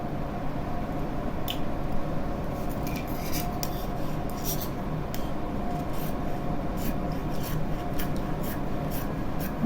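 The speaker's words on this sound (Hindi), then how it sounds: "तो चलिए हम सबसे पहले इस कपड़े को कट कर लेते हैं" Scissors cutting cloth for a Hanuman costume, a steady close rasping and rubbing with repeated crisp snips layered on top, continuous throughout.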